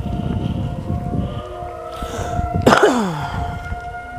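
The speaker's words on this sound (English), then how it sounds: "The tornado sirens are going off, and there is nothing going on out here." A tornado siren sounds at 2 a.m. in Norfolk, Nebraska, its steady wavering wail heard from a driveway outdoors with a brief sharp noise near the end, no talking.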